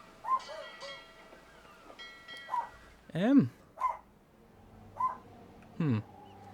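A small pet dog barks indoors at home in several short, separate bursts, some sharp and some higher and yelping, spread across the moment against a quiet background.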